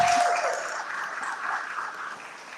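Applause from the audience at a city council meeting, a soft diffuse wash of clapping in a large room that slowly tapers off.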